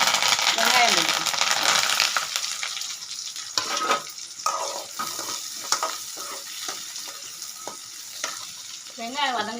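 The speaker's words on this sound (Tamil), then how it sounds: "எண்ணெய் காஞ்சதும் சோம்பு போட்டுக்கலாம். கருவேப்பிலை போட்டு வெங்காயம் போட்டுக்கலாம்." Onions and curry leaves with fennel seeds crackle in hot oil for a Tamil mutton chukka, a loud, steady sizzle broken by spoon scrapes and stirring as the frying settles.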